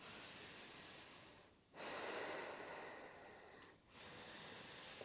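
Slow, deep breathing through the nose during a beginner yoga balance pose, with two long airy exhales or inhales separated by brief pauses, close and quiet, no talking.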